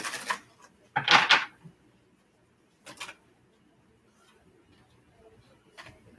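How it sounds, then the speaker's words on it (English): Tarot cards being shuffled: a few short papery riffling bursts, the strongest near the start, then brief isolated flicks separated by quiet, close and moderately loud with no talking. "Okay, this will be our last shuffle."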